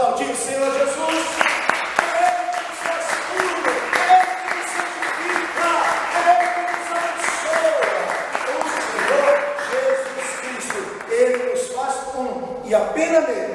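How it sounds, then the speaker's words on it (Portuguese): A church congregation claps along during a Portuguese-language sermon while music with sustained tones and voices continues, the clapping a dense, even wash throughout. "Você pode aplaudir o Senhor Jesus?"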